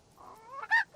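A chicken in the Donjon de Naheulbeuk video game gives a single short cluck, close and moderately loud, with no other sound.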